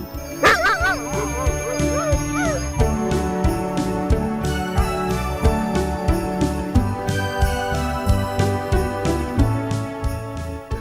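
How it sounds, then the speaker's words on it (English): Husky sledge dogs in deep Lapland snow bark in a loud, continuous, overlapping chorus, with high whimpering whines early on and rhythmic yips throughout. "a team of husky dogs pulling a sledge is a very good way to get to where you have to go"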